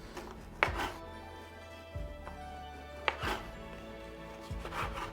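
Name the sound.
trimming white bread crust with a Tojiro bread knife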